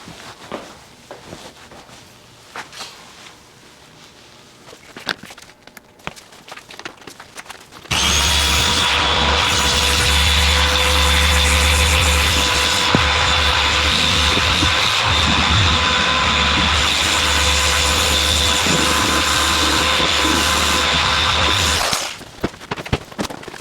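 Rotary polisher buffing the rear quarter panel of a Porsche 911 Turbo during a paint correction, a loud steady motor whine that starts abruptly, runs continuously for about fourteen seconds up close, then cuts off.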